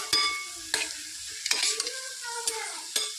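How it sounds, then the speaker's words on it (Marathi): Kantoli vegetable is stirred in a pan just after the lid comes off, with five or six sharp scraping strokes spaced across the clip over a faint sizzle and no voices. "वाफेवरचं झाकण काढून घ्यायचं आहे मस्त असं मिक्स करून घ्यायचं आहे"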